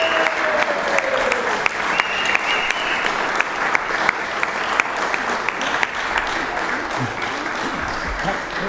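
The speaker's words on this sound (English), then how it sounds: "Give them one more a round of applause here." Clapping in a state senate legislative chamber during a session, sustained and fairly loud for several seconds, with some scattered sharper claps and faint murmurs near the end.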